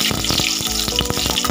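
Bay leaf, dried chilli and whole cumin hit hot oil with a loud, continuous crackling sizzle, heard up close and alone.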